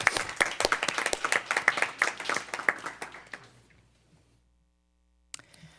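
An audience applauds social workers at a superintendent's board report, brisk clapping that fades out over about four seconds, followed by silence and a faint bump at the end.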